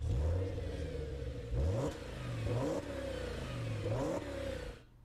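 In the video game GTA 5, a car engine revs repeatedly during a race, climbing through gears with rising pitch that drops at each shift, loud and close without voices, then cuts off at the end.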